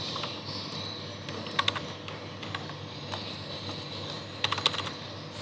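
Typing on a computer keyboard while entering a server address during a Debian 9 server setup, with soft steady key taps and a couple of louder clustered clicks, close and alone with no talk.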